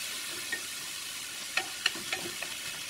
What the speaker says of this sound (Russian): Ну и пошел кабачок. Ну, через минуту после чеснока примерно. Помешиваю.